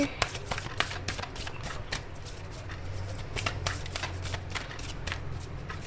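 An oracle card deck is shuffled by hand in quick, rhythmic riffles and slaps, close and crisp, running steadily throughout.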